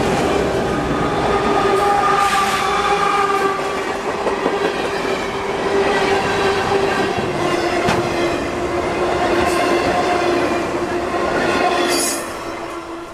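Freight train M457 rolls past on double track in Jacksonville, its auto racks rumbling loudly with a steady clatter, wheel squeal and ringing tones before the noise eases at the end.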